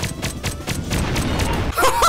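A missile explodes in the Roblox game Jailbreak, heard as a quick series of loud, sharp blasts in a rough rhythm that ends with a denser burst.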